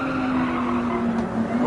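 A race car holding full throttle in Gran Turismo 7 on the Highway 1 time attack course, a steady sustained engine whine with a tire-squeal edge that runs unbroken and close.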